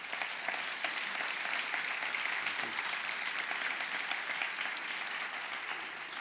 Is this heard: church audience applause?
yes